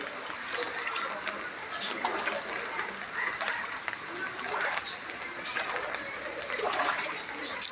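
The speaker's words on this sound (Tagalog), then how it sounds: "Lakas ng agos." Strong floodwater current rushes through a flooded residential neighborhood after a night of heavy rain, a steady broadband wash of churning water that holds constant throughout, fairly close, with no voices over it.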